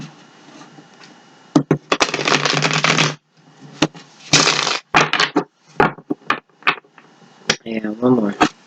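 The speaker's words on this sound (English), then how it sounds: "let's give these a couple shuffles" Tarot cards being shuffled by hand in bursts of riffling and sliding, with brief pauses and card taps between them, close and fairly loud, no talk.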